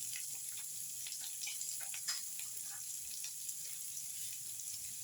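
Soft, steady sizzle of chopped onion sautéing in a pan, faint and continuous with small crackles and no talking.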